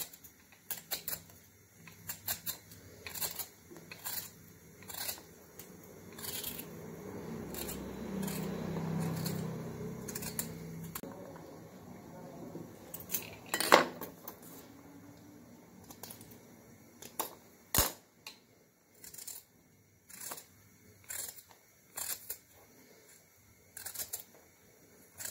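A sweet potato being peeled with a hand peeler after its stem end is cut off, heard as a close run of dry scraping strokes with clicks and taps, quiet and without talk.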